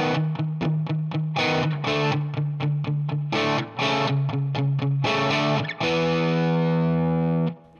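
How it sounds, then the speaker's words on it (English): Distorted electric guitar playing a descending power-chord riff, rhythmic chugging chords ending on a ringing sustained chord, loud and close with no talking. "We're going to start with the main riff to this song that uses a descending chord progression."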